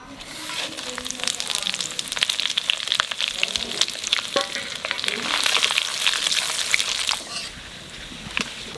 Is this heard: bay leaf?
yes